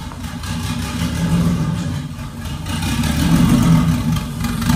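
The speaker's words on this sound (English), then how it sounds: "I'm gonna walk back around the front, see if we can't fire this thing up again." A sand rail engine at the Glamis dunes runs steadily close by, its deep low rumble swelling and easing as it is revved, with no talking over it.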